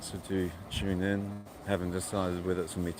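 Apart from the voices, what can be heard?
No distinct noise like a dog, phone or traffic.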